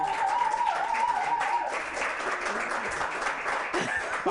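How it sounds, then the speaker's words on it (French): A studio audience claps in sustained, dense applause at a French TV show, steady throughout with a voice speaking over it at times. "Non, mais plus d'applaudissements, je vous en prie."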